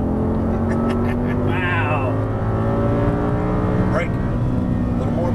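An Audi R8 on a Las Vegas racetrack accelerates hard at full throttle, its engine note climbing steadily in pitch, loud and close, with a voice talking over it.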